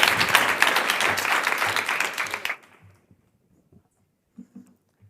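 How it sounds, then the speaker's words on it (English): Audience applause at the Tech4Democracy Madrid 2022 pitch event, a dense burst of clapping that stops sharply partway through, leaving near silence with a few faint thumps. "Please, ladies and gentlemen, help me give a warm applause to Citibeats."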